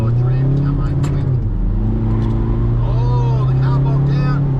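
A Toyota Hilux launches at Willowbank Raceway's drag strip, its engine droning loud and close with a low, uneven pull as it bogs down, while a voice talks over it.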